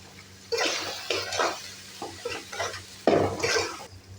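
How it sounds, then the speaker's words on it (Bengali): Sliced onions frying in a pan for chicken biryani, irregular bursts of sizzling and stirring scrapes close by, with short pauses between each stir. "পেঁয়াজটা ভেজে নিচ্ছি"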